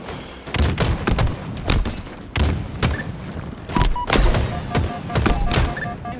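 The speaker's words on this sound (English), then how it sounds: "You end up getting shot in the back." Gunfire and thudding impacts from a Halo Infinite Live Fire Stronghold match: repeated bursts and loud booms scattered across several seconds, close and punchy, with no talk over them.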